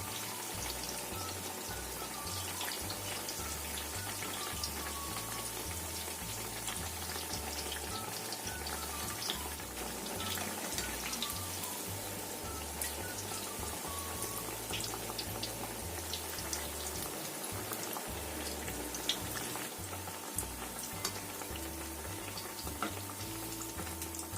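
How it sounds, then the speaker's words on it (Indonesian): Tempeh patties (perkedel tempe) frying in oil, a steady, dense crackling sizzle that runs unbroken and fairly close throughout, with no voices. "Setelah kira-kira goreng sampai kuning kemasan dan sudah matang, kita bisa angkat, kemudian kita tiriskan."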